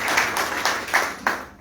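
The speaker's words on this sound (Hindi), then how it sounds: "सर के लिए जबरदस्त तालियां होंगी।" Audience in a meeting hall clapping in a short burst, with a few distinct louder claps standing out from a steady patter, fading away toward the end.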